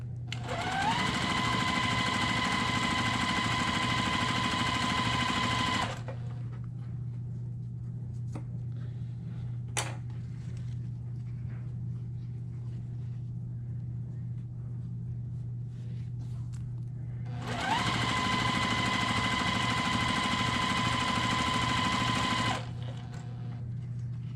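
Quilt block pieces run through a sewing machine along a quarter-inch seam in two steady bursts of close, even motor hum, separated by a long quiet gap with small handling clicks.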